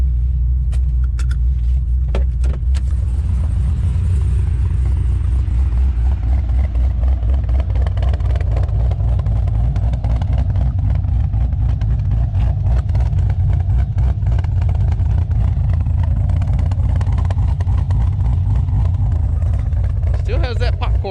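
A Pontiac G8 fitted with eBay replacement mufflers idles with a deep, loud exhaust rumble and a ragged crackle of pops running through it, heard up close while people talk over it.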